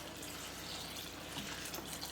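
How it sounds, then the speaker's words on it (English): Water poured from a tap into a pan of seasoned rice with olive oil, a steady, close, continuous rushing splash with no talking. "I'm gonna add water just to cover the rice"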